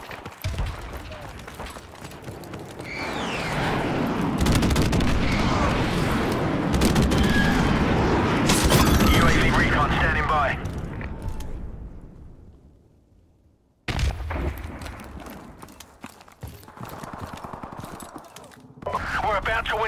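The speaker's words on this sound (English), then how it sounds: "Friendly airstrike on the way." Call of Duty: Modern Warfare Remastered airstrike, with dense rolling explosions and crackling gunfire building into a loud sustained roar. It fades to near silence, then scattered shots and battle noise return.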